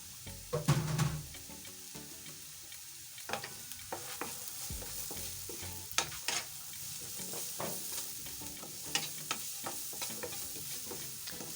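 Carrots and other vegetables stirred together in a cooking pot for vegetable rice, with repeated spoon scrapes and clanks against the pot over a soft sizzle, close and steady throughout.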